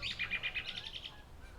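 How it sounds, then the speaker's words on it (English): A loud wild bird chirps outdoors about an hour south of the Canadian border, giving a quick run of about ten sharp, evenly spaced tweets up close before the calls fade out. "that was just a loud ass bird"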